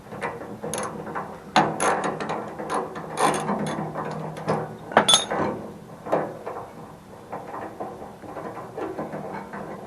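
A ratcheting wrench loosens the nuts holding a gas burner in place. Rapid metallic clicking comes in bursts close by, with pauses and small clinks of metal parts between them.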